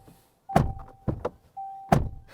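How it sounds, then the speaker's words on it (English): Doors of a 2024 VW Amarok pickup shut with two or three close, solid thunks, each followed by a short electronic chime. "And our door slams is what it sounds like."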